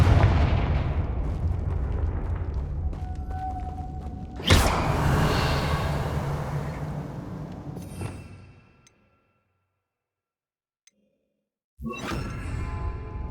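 The Confringo fire spell in Hogwarts Legacy fires with a sharp whooshing blast, then a second explosive burst follows, each trailing into rumbling decay before a silent gap and another loud blast at the end.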